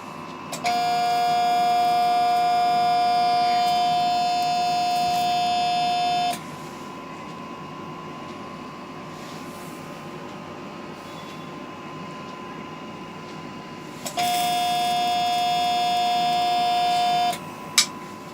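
Electrosurgical vessel sealer with a bipolar cable operating in seal mode, sounding a steady electronic tone twice, a long continuous beep then a gap and a second shorter one, close and clear over faint room hum.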